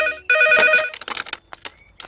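An electronic telephone ringtone trills loudly with steady tonal bursts, then breaks into shorter chirping fragments, in a Telugu comedy film scene.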